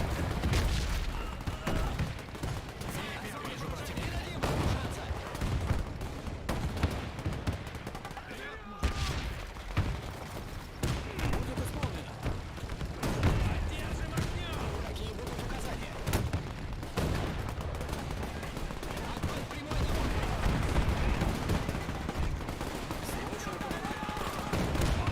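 Gunfire rages through a tank battle in the video game Men of War II, with dense, continuous volleys of shots and booms packed across the whole stretch, loud and busy, with a brief lull near the middle.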